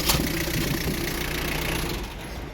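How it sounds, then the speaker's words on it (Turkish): A misfiring car engine idles with a rough, uneven rumble, the steady running broken by slight stumbles, heard close at the exhaust with no talking. "Motorun teklediğini Egzozdan anlayacaksınız arkadaşlar"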